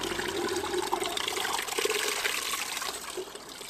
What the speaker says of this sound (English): You can see how quick the water leaves the bottle.